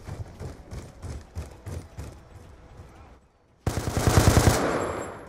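Rapid bursts of gunfire from a Remington gun in a video game, a steady string of shots followed by a short pause and then a louder, denser volley, with voices faintly present.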